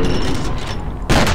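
Shotgun fire in the first-person shooter F.E.A.R.: a loud, dense burst of booming gunfire with a sharp blast near the end, heard up close with no talk over it.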